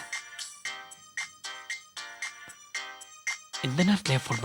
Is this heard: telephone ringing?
yes